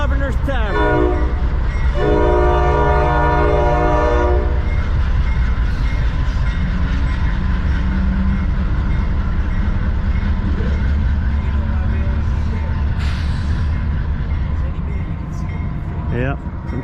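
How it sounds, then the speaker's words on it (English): A CSX freight train street-running through Hudson, New York sounds its horn in loud repeated blasts, then rumbles and clatters past at close range for many seconds, with a brief squeal near the end. "Street running in Hudson, New York. CSX."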